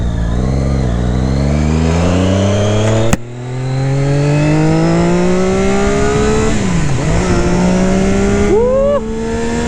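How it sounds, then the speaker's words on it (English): A Triumph Daytona 675 R three-cylinder motorcycle revs up through the gears, its loud, close engine note climbing steadily, with quick dips at the gear changes. "Now this bike is a 3-cylinder."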